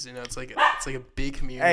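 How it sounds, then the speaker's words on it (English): A pet dog barks a few times indoors, loud and close, the yaps mixed in with someone talking casually over them. "Sorry, that's my dog"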